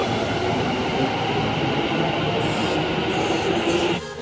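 A metro train arriving at a station, a loud steady rumble of wheels and motors that drops off sharply near the end.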